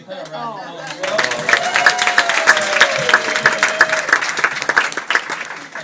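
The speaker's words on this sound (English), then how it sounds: "so we can give her a round of applause as well" Wedding guests break into applause for the bride, a full round of crowd clapping that swells after a brief spoken lead-in and holds steady, with a faint voice underneath.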